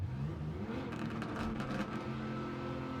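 Race car engine in Gran Turismo 7 played on a Logitech G923 wheel, a faint, continuous revving drone with shifting pitch throughout, no voices.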